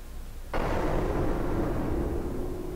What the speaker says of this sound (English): I heard the explosion sound.